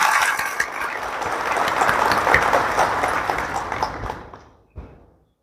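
An audience at a school alumni get-together for the 1996 tenth-grade batch claps loudly and continuously for their teachers, a dense roar of applause that fades out near the end.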